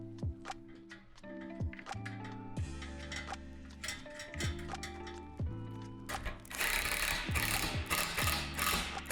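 Two nuts being tightened onto a truss rod with its connector and brace while assembling a Lifetime 15' x 8' outdoor plastic storage shed, heard as a rapid run of ratchet clicks in repeated bursts, close and fairly loud, with a brighter clattering stretch near the end.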